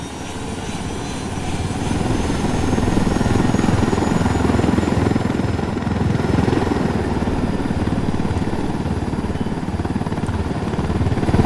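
Helicopter in the video game Ghost Recon Wildlands, a loud, continuous rotor roar and engine drone holding steady throughout, close and uninterrupted, with no talking.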